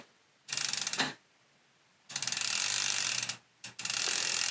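A mountain bike chain with a power lock link is pulled through the drivetrain in three bursts of rapid ratcheting clicks, close and crisp, with short silent pauses between the runs.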